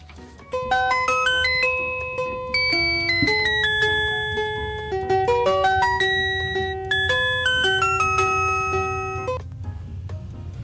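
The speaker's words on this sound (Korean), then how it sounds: "수업 5분 전 종이 울린다." A school bell sounds five minutes before class as a loud melodic electronic chime, its descending and rising note phrases repeating several times on its own over low background hum.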